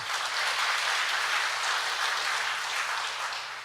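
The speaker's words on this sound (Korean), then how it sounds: "우리 40대를 위해서 박수 한번 쳐주시기 바랍니다." Congregation clapping during an afternoon church service at Gaepo Church, a steady, even wash of many hands heard from a slight distance over a low hum.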